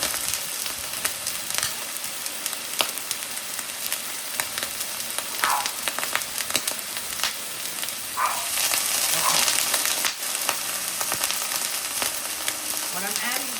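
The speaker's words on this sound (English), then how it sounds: "What I'm adding to this pan is literally onions, and these are frozen peppers." Frozen chopped onions and peppers frying in a pan, a steady bright sizzle with occasional crackles and stirring scrapes, continuous and close.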